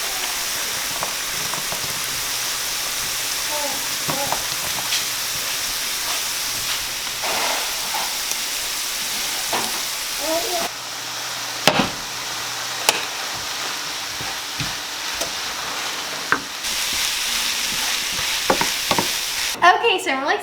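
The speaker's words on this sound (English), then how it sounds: "All I'm going to do now is mix them together and add in the cranberries and some parsley." Quinoa and sautéed vegetables stirred together in a hot pan, with a continuous sizzle and hiss broken by scraping strokes of a utensil and a few sharp knocks, heard close and alone.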